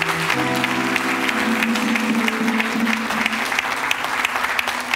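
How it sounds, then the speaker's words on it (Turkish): Studio audience applause on a Turkish television talk show, a steady roar of clapping that runs the full length, with sustained music tones beneath. "Kocaman alkışlar Hande için."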